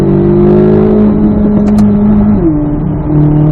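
Race car engine on a track pulling hard in fourth gear, a loud, close, steady droning engine tone that dips and shifts pitch partway through, with no talking.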